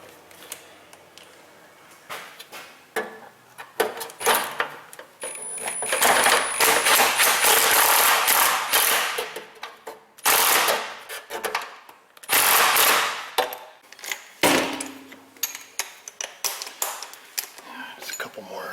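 An impact wrench loosens bolts on the rear A/C lines of a Kia Sedona in several loud, close bursts of rattling hammering, with quieter clinks and pauses between them.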